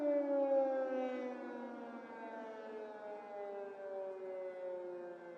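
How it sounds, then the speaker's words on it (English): A wailing air raid alert siren in Ukraine holds a long, slowly falling tone with rich harmonics, heard from a distance, steady and alone without voices. "I know all we're hearing is sirens here."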